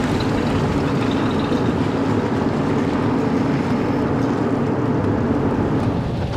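Big V8 of a 1968 Cadillac Coupé DeVille giving a steady, deep barge-like rumble, a continuous low drone that holds level throughout with no voices.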